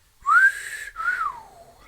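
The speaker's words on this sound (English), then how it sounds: "He sat down and whistled." A man whistles two short notes, the first rising and the second gliding downward, clear and close in a quiet room.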